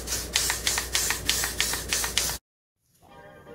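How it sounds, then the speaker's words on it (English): Got to Be Free hair spray misted onto the edges of hair over a pulled-down wig cap, heard as a steady close hiss broken by about eight rhythmic pump bursts, then stopping abruptly into near silence. "I'm just putting the Got to Be Free spray on the perimeter of my hair."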